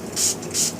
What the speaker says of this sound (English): we spray,